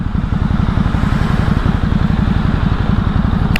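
A small motorcycle engine runs steadily nearby with a fast, even putter and light mechanical clatter, holding a constant idle-like pace throughout.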